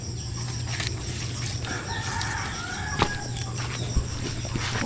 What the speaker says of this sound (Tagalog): Madami pong manok.